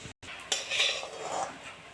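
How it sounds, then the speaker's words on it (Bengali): Spoon scraping and clinking against a pan while fried cumin, coriander, chilli and fennel seeds are stirred, a few close metallic scrapes and taps over a soft continuous rustle. "এটা নেড়ে চেড়ে নামিয়ে নেব।"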